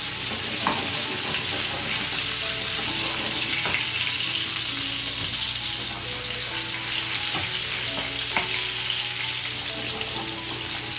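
Meatballs fry in a pan with a continuous crackling sizzle, marked by occasional sharper pops and the clatter of stirring or shaking the pan.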